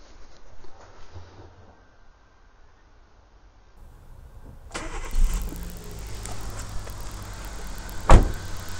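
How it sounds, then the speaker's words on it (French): A Chevrolet Aveo engine is started after a quiet lull: the starter cranks briefly, then the motor catches and settles into a steady mid-pitched idle, close by, with a sharp mechanical click near the end. "on peut mettre le moteur en route pour faire circuler la pompe"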